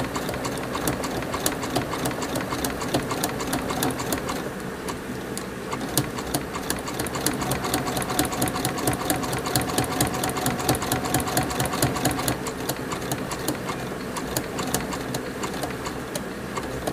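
A sewing machine stitches craft cord in a fast, steady needle rhythm. The sound is close and continuous, with brief pauses in pace, and no talking.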